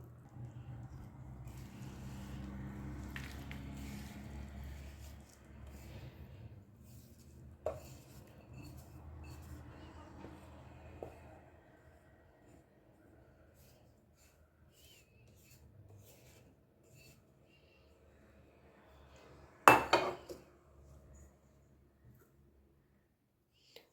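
A utensil scrapes a sesame-peanut mixture out of a pan onto a ghee-greased plate, with faint rasping and rubbing strokes followed by a sharp metallic clatter near the end. No voices are heard.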